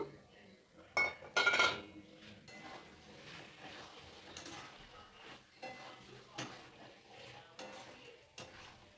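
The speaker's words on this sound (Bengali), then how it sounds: "ভেজে রাখা চিংড়ি মাছ দিয়ে দেবো" Fried prawns tipped into a pan of young jackfruit and peas, then stirred: soft sizzling under clinks and scrapes of a metal spoon against the pan, a few louder knocks early on, close by.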